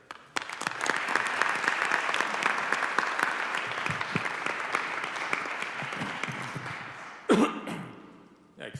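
Audience at a congressional gold medal luncheon applauding to welcome a congressman, with dense steady clapping for about seven seconds that fades out, followed by a cough and throat clearing.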